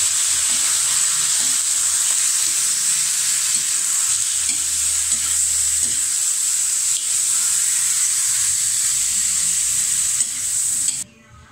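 Garlic and chicken gizzard frying in oil in a pan, a loud, constant hissing sizzle that holds steady for about ten seconds before dropping away abruptly near the end.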